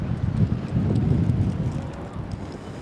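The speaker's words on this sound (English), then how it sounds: "Windy day here at Trum Field" Wind buffets the microphone at a high school baseball game in a low, rumbling gust that rises, holds, then eases slightly.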